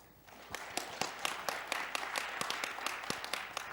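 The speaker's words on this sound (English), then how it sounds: "please welcome our moderator with a big round of applause" A conference audience applauds a moderator: a thin, sparse patter of individual claps, fairly faint and irregular, as if from a small or distant group in a hall, with no talking over it.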